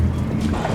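A boat motors along a marina in Zadar, a steady low rumbling engine and water wash with wind noise, close and fairly loud throughout.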